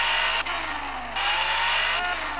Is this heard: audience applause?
no